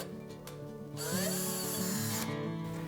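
A power drill drives screws fastening a metal mounting bar to an electrical junction box for a pendant light, a steady close whine that rises in pitch and holds for several seconds.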